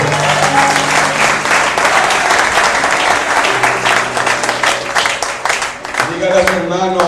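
A church congregation applauds during a sermon, loud sustained clapping mixed with cheering voices and sung or held tones underneath, with talk rising near the end.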